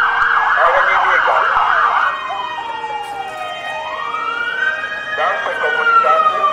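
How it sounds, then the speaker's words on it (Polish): Emergency vehicle sirens sound during a building evacuation drill with fire, police and ambulance crews arriving: a loud, close electronic siren yelps rapidly, then sweeps into a slow rising-and-falling wail before yelping again. "Dookoła brzmiały syreny."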